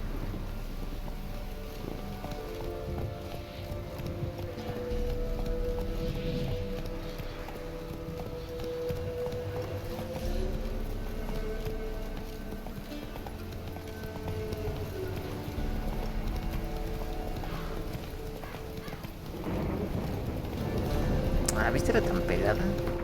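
Roach, the horse in The Witcher 3, travels with continuous rhythmic hoofbeats under game music and wind, while a person talks over much of it.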